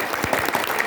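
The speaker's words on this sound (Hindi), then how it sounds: "पूरे गांव वालों को एक बार ताली बजा के धन्यवाद दीजिए।" An audience at a Krishna Leela katha gathering claps in thanks to the whole village, a brief burst of dense, steady applause heard up close.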